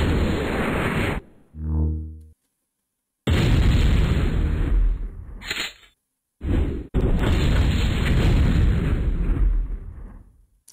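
Explosions from a Sync Ray attack in the video game MechQuest. Loud, dense bursts are broken by sharp silent gaps, with a short tonal whoosh between them, and no talking.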